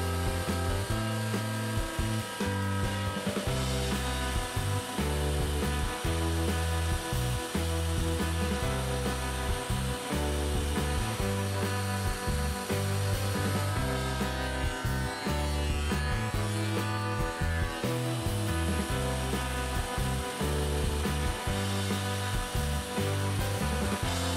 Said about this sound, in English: we need to run this board for the thickness planer, because for my liking is a little bit too thick. So let's do that now